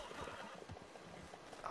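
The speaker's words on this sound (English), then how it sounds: "Horse, calm down!" A horse in a video game neighs and stamps its hooves in an agitated way, with rough, scuffling movement and thuds across a short, fairly quiet stretch.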